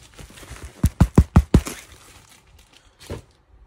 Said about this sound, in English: And the sound of the foam.